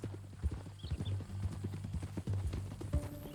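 Horse hooves in Red Dead Redemption 2 clip-clop in a quick, steady rhythm, close and moderately loud, with a brief harness jingle and a short snort along the way.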